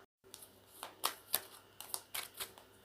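Tarot cards drawn and shuffled on a table, a close series of light papery flicks and snaps in an uneven rhythm. The clip opens with a moment of silence.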